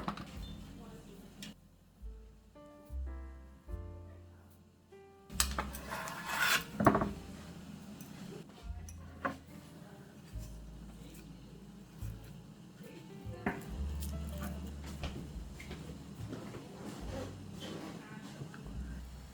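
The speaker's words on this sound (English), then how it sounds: "I like to mix a simple lemon thyme butter with a little salt, granulated garlic, black pepper, and lemon zest." Lemon thyme butter is mixed with salt, granulated garlic, black pepper and lemon zest in a bowl, producing close, soft rubbing and scraping strokes with occasional light clicks, after a brief run of tonal notes at the start.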